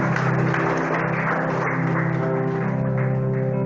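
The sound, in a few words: congregation applause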